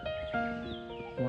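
A horse whinnies in a snowy yard, a single drawn-out neigh heard fairly close and clear against quiet surroundings.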